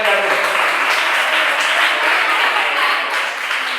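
A room of children claps loudly and eagerly, fast dense applause heard close and steady for a few seconds without letting up.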